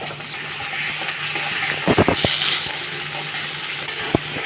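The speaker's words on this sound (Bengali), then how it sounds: "পেঁয়াজ কুচি দিয়ে এটাকে নেড়ে চেড়ে দিচ্ছি" Chopped onions fry in hot oil in a wok while being stirred, giving a steady close sizzle with a short run of spatula scrapes and knocks near the middle and a couple of isolated taps toward the end.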